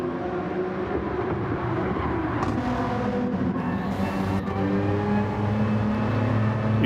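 Race cars in the Gran Turismo 7 video game, during a Nations Cup event, roar toward the finish line in a steady, loud engine drone with layered tones and a slight rise near the end.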